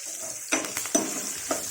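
Chopped green chillies for coconut chutney fry in a pan with a soft steady sizzle, broken by a few sharp stirring scrapes and clinks of a utensil against the pan.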